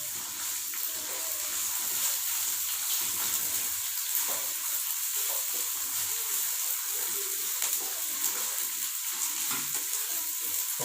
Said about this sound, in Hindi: फिर बाद इसमें अदरक और लहसुन शामिल करेंगे। इसको हल्का सा फ्राई करेंगे।